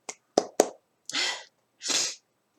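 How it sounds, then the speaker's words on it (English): Several sharp sneezes, a few quick close bursts followed by two longer, breathy blasts, loud and near with short pauses between them. "I need to sneeze."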